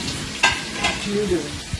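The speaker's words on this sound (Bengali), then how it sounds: "পেঁয়াজটা আবার ভাজা হবে" Onions sizzle in hot oil with a steady crackle, broken by a few scraping stirs of a spatula against the pan.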